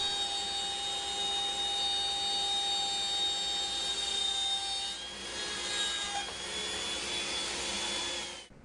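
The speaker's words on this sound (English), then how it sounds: "switching from the 3/4 inch bit to a 1/4 inch bit, I'm going to cut again all the way around, but this time all the way through" A router with a 1/4 inch bit cutting all the way around and through a piece of wood, a steady high whine with shifting tone as the cut progresses, fairly quiet and continuous, without speech.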